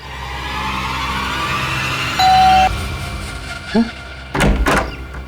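A door opening indoors in a crime drama scene, with a thunk and a short sliding rattle standing out over loud background music, followed by a couple of sharper knocks.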